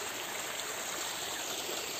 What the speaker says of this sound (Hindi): और ये पानी बह रहा है यहाँ पे